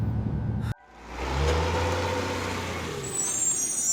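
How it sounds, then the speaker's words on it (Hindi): A truck on a deserted road at night hisses with a sharp air-brake release, then its engine rumbles and slows steadily toward a stop, loud and close with no voices. "ट्रक की गति धीमी की"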